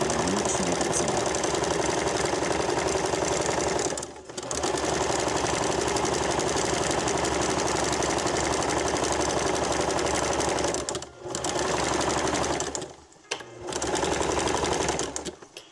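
A sewing machine stitching jute rope runs loud and close in a steady, rapid mechanical whir, stopping briefly three times before starting up again.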